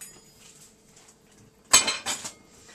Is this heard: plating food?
yes